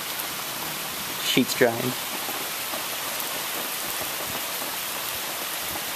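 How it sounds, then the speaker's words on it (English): Steady heavy rain from a thunderstorm pours down from house gutters, a constant hissing wash through the whole stretch, with a brief burst of nearby talk early on. "That rain pouring down from the gutters."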